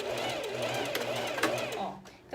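A sewing machine finishes a seam with backstitching on fabric, giving a steady continuous mechanical whir that runs close throughout and stops near the end.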